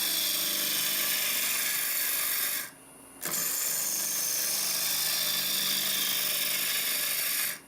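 A wood turning tool cuts into a spinning blank on a lathe while a cowboy hat is turned, giving a loud, steady broadband hiss that drops out briefly near the middle and then resumes.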